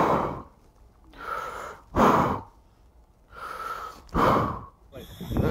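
A person imitates a scuba diver breathing underwater: slow, loud regulator-style inhales and exhales alternate in a steady rhythm, about three full breath cycles, close up and with no other sound.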